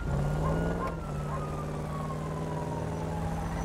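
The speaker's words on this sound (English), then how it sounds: "I hear sirens." A video game siren wailing with steady tones and a slow falling sweep, carried over a constant low engine drone.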